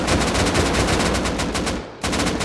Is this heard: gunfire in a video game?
yes